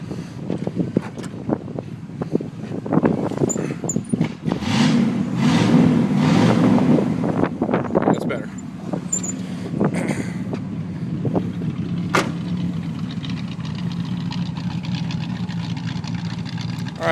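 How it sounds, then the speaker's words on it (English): A 1970 Pontiac Catalina convertible's engine runs after a cold start, rumbling at idle and swelling into a few revs before easing back, with some wind noise and occasional knocks nearby. "Rev it up a little bit."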